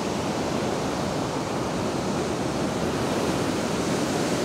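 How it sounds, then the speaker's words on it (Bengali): Big sea waves breaking on Shankarpur beach, a dense, continuous roar of surf heard close at hand and steady in loudness, with no voices. "এখানে স্নান করা একদমই অসম্ভব, যত বড় বড় ঢেউ হচ্ছে"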